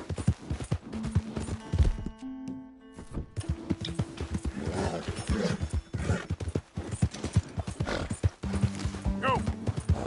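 Horse hooves clip-clop at a galloping pace in Red Dead Redemption 2, a steady close drumming that runs throughout with a whinny near the end, under a voice urging the horse on.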